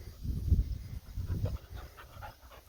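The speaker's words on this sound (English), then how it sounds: "as you can see, I got my dogs over here finally" Boxer dogs pant near a barn, quick rhythmic huffing breaths at close range with a low, rough texture, rising and falling in short bursts over faint background noise.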